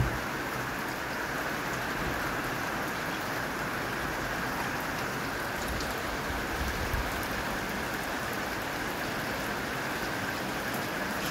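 Steady rain falls outdoors with a dense, even hiss of drops on surfaces, continuous and unbroken with no voices.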